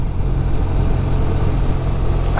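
A BMW R1250 RT motorcycle's boxer twin engine runs steadily nearby with a loud, low, throbbing rumble that holds an even pulse throughout.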